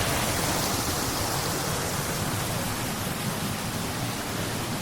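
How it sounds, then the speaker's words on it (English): A small waterfall feature in snowy Gora Park, Hakone, Japan, heard as a constant broadband rush of falling water, steady and fairly loud without pause. "Nice little waterfall feature here."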